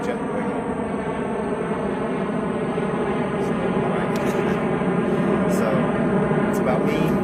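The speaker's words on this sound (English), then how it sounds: "I've got a jet going over." A jet aircraft passing overhead gives a loud, steady broadband roar that drowns out most other sound, and a voice talks faintly beneath it.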